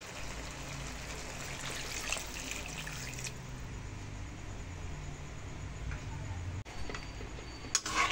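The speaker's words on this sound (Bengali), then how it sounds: "এখন আমি পরিমাণ মতো জল দিয়ে দেব।" Water pours into a pan of fish head curry (rohu fish head with potato and spices), a steady, soft trickling stream running continuously at low volume.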